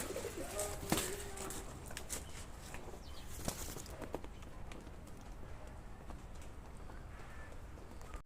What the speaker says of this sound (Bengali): এই হচ্ছে গিয়ে আপনার কবুতর